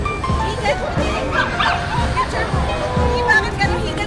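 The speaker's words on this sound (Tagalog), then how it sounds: "Daming aso." Several dogs bark in repeated bursts at a car-free street running event, with some yips and whimpers amid a busy outdoor crowd and talk.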